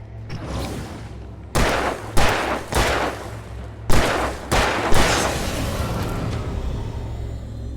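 Gunshots fired in Alan Wake Remastered, a burst of about six loud, sharp reports spaced irregularly over a few seconds, each with a ringing tail, then fading into a low ambient rumble.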